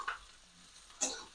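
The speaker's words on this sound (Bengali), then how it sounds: "এটা প্রথমে মশলাটাকে ভাজতে হবে।" Spice masala frying in a pan for a dhaba-style egg curry, a soft sizzle with two brief brighter bursts of stirring over a short, quiet stretch.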